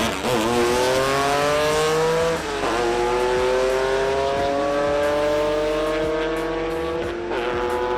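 Race cars in a drag race, a Honda Accord against a Camaro, roaring loud and close with rising engine pitch through gear changes, a continuous strained acceleration.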